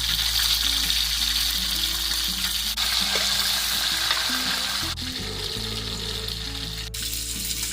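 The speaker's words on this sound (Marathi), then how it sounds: "तेल तापलंय आता. जिलेबी पण टाकून घेते तव्यावरती." Jilebi (tilapia) fish, coated in spice paste, sizzle loudly and steadily in hot oil on a griddle, a dense continuous crackle with occasional sharp pops and no talking.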